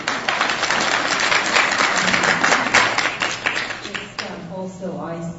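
A panel discussion audience applauds the speakers with a sustained, fairly loud round of clapping that thins out near the end as a voice begins talking over the fading claps.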